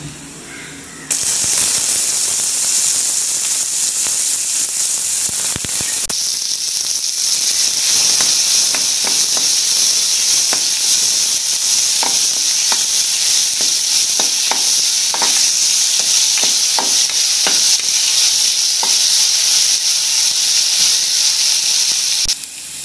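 Chopped onions hit hot oil with popped mustard seeds for a banana flower and drumstick leaf stir-fry, bursting into a loud, steady sizzle with scattered crackles and ladle scrapes, close and continuous after a quiet start.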